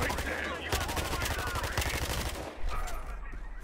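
Rapid bursts of automatic gunfire from a gun in Battlefield Hardline's Bank Job Conquest mode, loud and close, firing in a steady stream for several seconds with a short pause before resuming.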